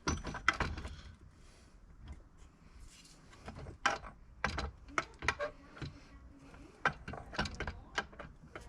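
Input shaft of a 1997 Jeep Wrangler TJ transfer case being worked into its gears, giving sparse metallic clicks and knocks in irregular bursts, close and fairly quiet, with no talk.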